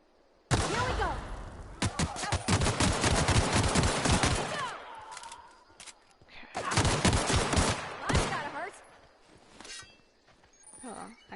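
Gunfire in the video game The Outer Worlds, two long bursts of rapid automatic shots with a short pause between and a final lone shot, loud and sharp.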